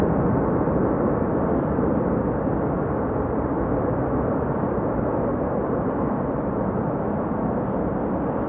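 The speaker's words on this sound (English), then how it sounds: "Nice use of the reversers there, quite clearly audible." An airliner landing with thrust reversers deployed produces a steady, broad roaring rush heard from a distance, unbroken and fairly loud throughout.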